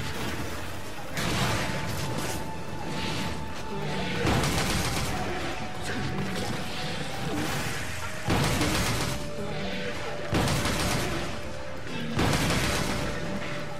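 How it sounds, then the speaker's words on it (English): Bowgun fire in the Monster Hunter 3 Ultimate video game: repeated heavy bursts of pellet shots land in clusters every couple of seconds, loud over a busy game soundscape with a steady tone in the background. "It is a bit slow firing the pellets. But it's doing nice damage."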